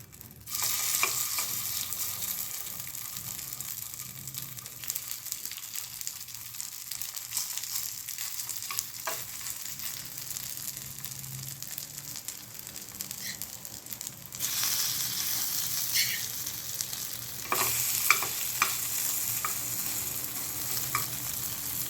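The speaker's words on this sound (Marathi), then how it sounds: "आणि प्रत्येक मोल्डमध्ये आपण हे मिश्रण घालून देणार आहोत." Sweetcorn appe batter sizzles steadily in oiled appe pan molds, a close, continuous frying crackle with brief stirring or clinking touches and fresh bursts of sizzle as more batter goes in.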